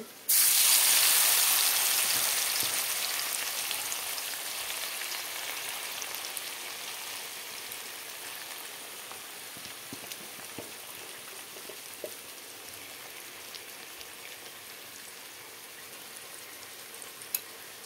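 Spiced fish frying in a wok, a loud sizzling burst at first contact that settles into a steady crackle and spatter, fading slightly but continuing throughout with scattered pops.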